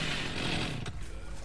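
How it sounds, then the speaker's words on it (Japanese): A chainsaw dash by the killer in the horror video game Dead by Daylight, a loud, steady buzzing chainsaw roar that runs almost continuously, with a brief sharp break near the end before the revving resumes. "チェーンソーダッシュ"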